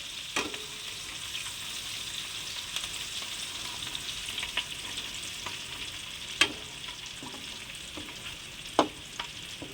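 Chillies hitting hot oil in a pan for paneer curry, a steady close sizzle and frying hiss with a few sharp spoon clacks and stirring scrapes.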